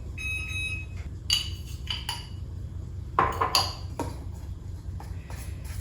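Peanut butter being mixed in a bowl with a utensil, heard as a handful of irregular clinks and scrapes against the bowl. A few thin ringing tones sound early on, over a low background hum.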